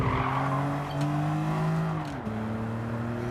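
BMW Z4 in Gran Turismo 7, rear-wheel drive, braking hard into a corner as the tires skid and squeal over a steady engine drone, the pitch dropping sharply near the end as the car slows.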